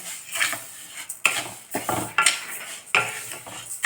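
Rice is dry-roasted in a pan, the grains rattling and rasping in bursts as a spoon scrapes and stirs them against the metal, close and loud, with no speech.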